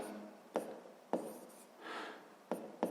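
Pen or chalk strokes sound while a math problem is written down, a few short sharp scratchy taps and one longer scrape, faint and close in a quiet room.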